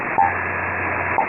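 Telephone dialing tones come over an HF aircraft radio channel: two short beeps at the start and end, with a steady hiss of radio static between them.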